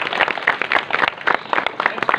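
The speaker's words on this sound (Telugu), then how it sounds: "ఒకసారి క్లాప్ కొట్టండి ప్లీజ్." Scattered audience clapping at a Telugu local election vote-count announcement, a brief burst of uneven claps rising and falling for about two seconds, fairly close and steady.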